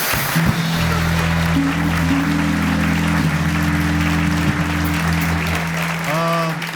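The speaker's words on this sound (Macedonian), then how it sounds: "Аплауз за Джаро" Studio audience applause on a TV talk show, sustained and steady for several seconds, with low steady tones running beneath the clapping.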